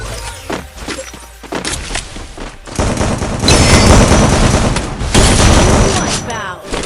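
Shotgun blasts in a Vietnamese first-person shooter, a dense barrage of booming, overlapping shots that swells loud mid-clip and stays heavy, mixed with crackling gunfire and game sounds, with faint talk early on.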